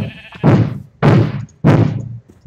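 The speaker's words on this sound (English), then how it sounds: "Hey, bud, buddy, don't kill the sheep." Sheep in the video game Minecraft bleating three times in a row, loud and close, each bleat short and evenly spaced with brief gaps of quiet.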